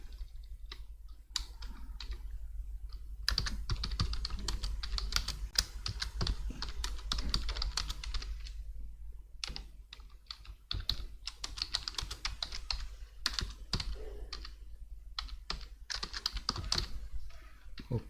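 Computer keyboard typing during live coding, a close, continuous patter of light key clicks in irregular bursts with short pauses, running alone for about eighteen seconds.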